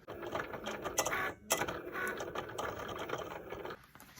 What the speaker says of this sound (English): now we can bring it over to the Cricut machine and cut it out.